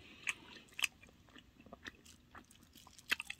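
Someone chews and eats tteokbokki close to the microphone. Soft, sticky chewing runs throughout, broken by a few sharper bites in a quiet room.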